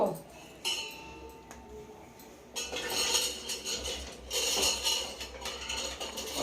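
Beetroot pieces dropped into a metal bowl, bursts of clinking and rattling metal against metal, close up, with short quieter gaps between the bursts.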